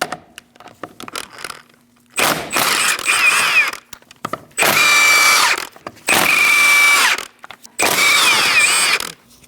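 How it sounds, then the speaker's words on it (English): A power tool with a 17mm socket spins off the rear wheel of a 2000-2006 Mini Cooper, with four loud, whining impact bursts of about one to two seconds separated by short pauses. "Using a 17mm socket, we're going to remove our wheel."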